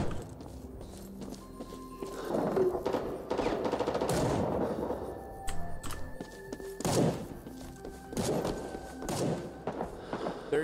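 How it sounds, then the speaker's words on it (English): Distant explosions and scattered gunfire in the Vietnam War shooter Rising Storm 2 on PC, set in Hue City, heard as irregular muffled booms and sharp cracks amid ambient battle noise, no speech. "I heard a bomb go off over here."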